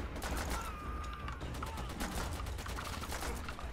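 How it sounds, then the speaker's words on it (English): Enemy blind firing in Call of Duty: World at War, a steady stream of gunshots and bursts that carries on through the clip with no let-up. The shots come at an irregular rhythm and sound moderately close, over constant battlefield rumble. "God, he's blind firing."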